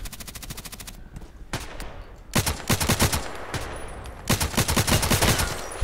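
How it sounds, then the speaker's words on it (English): Enemy gunfire in the video game Contract Wars on the Terminal 2 map: rapid bursts of automatic shots, loud and close, coming in several volleys separated by brief pauses. "just now he's shooting and shooting and shooting"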